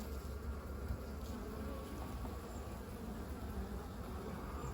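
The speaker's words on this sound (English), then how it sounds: "I don't want to smash bees or anything else like that." Honey bees swarm around an opened hive, filling the air with a dense, steady buzzing close by, continuous and even in loudness throughout.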